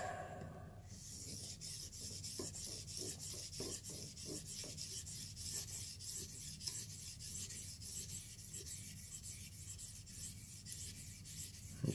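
A knife blade is drawn across an 800 grit Orion series sharpening stone in steady, repeated rasping strokes, close and fairly quiet, with no voices.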